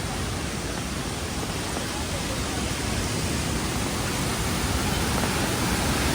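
Somtirth waterfall near Malgund and Ganpatipule rushes down at full speed, a dense, unbroken roar of water that stays loud and steady throughout.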